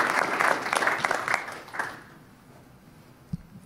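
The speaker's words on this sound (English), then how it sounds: "Let's give you a round of applause." Applause from an audience at a university board of trustees spring quarterly meeting, welcoming a young woman and her coach to the front, with dense clapping for about two seconds before it fades out, followed by a lone sharp tap.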